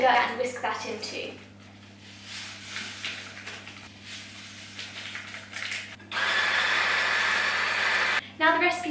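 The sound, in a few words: whisking eggs and sugar together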